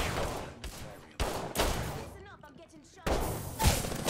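Grenades thrown into a room in Apex Legends, several sharp loud blasts and thumps separated by brief lulls, with talking in between.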